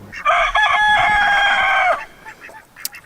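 A rooster crows once, loud and close, a long ringing cock-a-doodle-doo lasting nearly two seconds, then faint background rustling.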